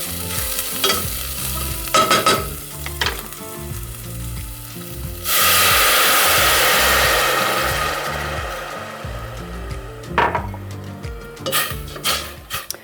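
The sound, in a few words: wine deglazing pan, scraping fond for chicken stroganoff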